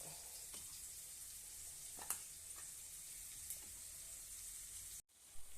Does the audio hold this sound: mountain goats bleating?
no